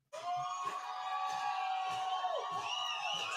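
A soundboard clapping effect with a crowd cheering and whooping, loud and continuous from start to finish after a sudden onset, with a voice mixed in.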